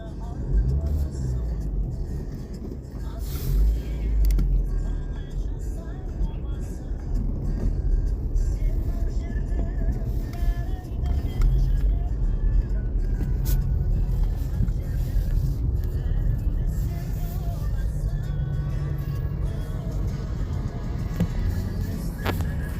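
A GAZelle van drives through floodwater along a flooded road, its engine rumble and the rush of water running continuously and fairly close, with wind buffeting the microphone and voices heard at times.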